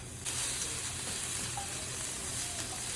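Onion and carrots frying in cooking oil for japchae noodles, a steady bright sizzle running evenly throughout with no talking.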